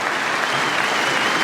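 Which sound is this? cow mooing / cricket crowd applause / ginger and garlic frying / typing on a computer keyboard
cricket crowd applause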